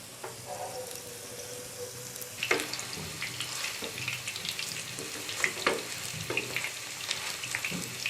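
Potato pancakes frying in a pan over medium-low heat make a soft, continuous sizzle and crackle, close by, with occasional light scraping and clinks.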